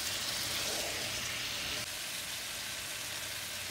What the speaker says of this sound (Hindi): अब हम इसको 2 to 3 मिनट फ्राई करेंगे.